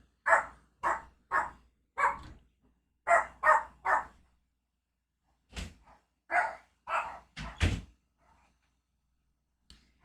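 Puppies bark in a quick series of sharp yaps and yips, close and loud, coming in bursts with short pauses between clusters and a faint final yip near the end.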